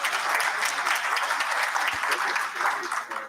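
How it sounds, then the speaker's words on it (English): An audience at an international accountants' convention applauding sponsors, sustained dense clapping filling the room at an even level, with a brief low thump near the middle. "I would like you all to give it a big round of applause for our sponsors."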